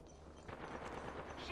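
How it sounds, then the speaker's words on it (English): Sustained gunfire from an Apex Legends firefight, a dense rattling barrage of shots that stays loud and fairly close across the whole stretch, thickening after the first moment. "Stop, I'm getting shot at."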